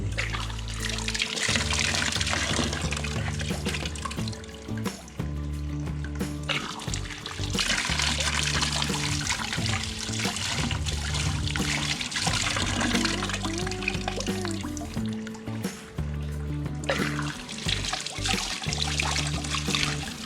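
Water runs from an automatic electronic hand-washing faucet, a steady splashing and trickling stream that continues close and fairly loud for the whole stretch.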